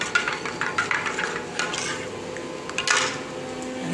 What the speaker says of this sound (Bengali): পরের জন্য এক গ্লাস ছাতু গুলে দিচ্ছি